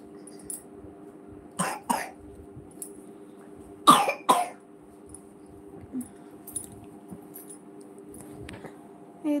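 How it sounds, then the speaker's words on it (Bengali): A child coughs in a quiet room at night, with a few separate short bursts of harsh coughing, the loudest near the middle, and small rustles in between. "ওই যে কাশছে খুবই"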